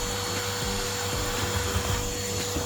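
A vacuum cleaner drones steadily as it hoovers loose flour out of a bakery oven, with scraping knocks from the nozzle against the oven floor under the hum.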